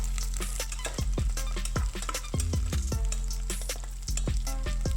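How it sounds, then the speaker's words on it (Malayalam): Coconut pieces sizzle loudly in a hot pan, with repeated scraping and clinking of a spatula stirring them, close and continuous. "ഇനി അതിലേക്ക് കട്ട് ചെയ്ത് വെച്ചിട്ടുള്ള തേങ്ങാക്കൊത്ത് ഇട്ടിട്ട് നമുക്കൊന്ന് വറുത്തെടുക്കണം"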